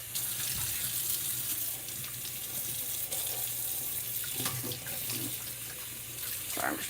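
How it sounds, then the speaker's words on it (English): Running tap water rinses out a can, a steady close gush with faint clinks and sloshes throughout, no voices. "I'm just rinsing out this can really quick."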